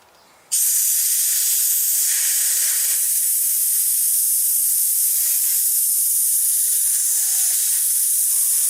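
Steady, loud hiss of compressed air blown through the jet of a dirty Toro Recycler lawn mower carburetor, starting abruptly after a short quiet moment and holding unbroken to the end.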